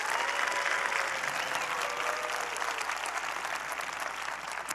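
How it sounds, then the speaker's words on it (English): A large keynote conference audience claps for sponsors in steady, dense applause that fills the hall evenly throughout. "Would you please give a big round of applause to all of our sponsors here this week?"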